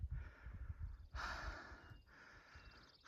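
Heavy, labored breathing of a hiker making a steep morning climb above the clouds in the San Juan Mountains, with close, rhythmic breaths and one stronger, longer exhale near the middle.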